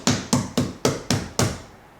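Six firm, evenly spaced slaps land on a realistic cake, each a sharp hand smack with a brief thud that fades before the next, close and loud.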